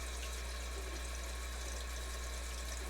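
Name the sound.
cold tap water running to wash homemade butter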